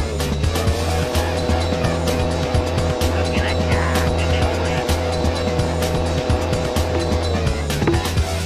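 A motorbike ridden in the Team Buddies PS1 video game, with a steady droning engine tone and scattered skid-like noises running continuously throughout.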